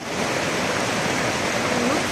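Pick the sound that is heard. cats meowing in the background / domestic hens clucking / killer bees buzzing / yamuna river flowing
yamuna river flowing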